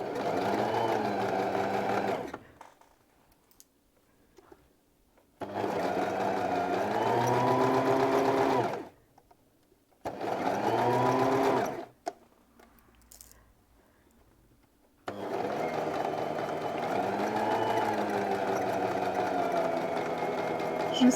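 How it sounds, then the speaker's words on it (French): A domestic sewing machine stitches pyjama seams in loud close bursts, running for a few seconds, stopping, then starting again, with short quiet pauses between runs and a voice speaking briefly in a gap. "Je ne sais pas où est-ce que je couds."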